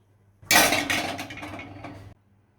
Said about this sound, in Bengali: এই গ্যাসের উপর কড়াই রাখছে, না জানি একটা পাথর রাখছে।